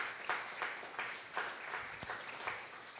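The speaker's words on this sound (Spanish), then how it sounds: "Dale un aplauso al Rey de Reyes y Señor de Señores." Congregation applauding during a church service, a steady wash of many hands clapping with a few sharper individual claps standing out, moderately loud and continuous with no talk over it.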